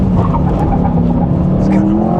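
A Corvette Stingray V8 revving hard on a race track, a loud close engine roar straining for grip, with a commentator talking over it.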